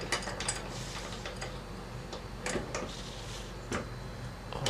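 A wrench tightens the pipe fitting on a Carrier inverter air conditioner unit, producing close, intermittent metallic ticks and clicks in short irregular bursts, with no voices.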